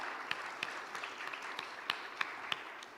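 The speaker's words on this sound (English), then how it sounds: "Let's clap hands for our panel." Audience applause for a panel at a sustainable energy week event in the Southern Africa region, a fairly faint, steady patter of many hands with a few sharper individual claps standing out.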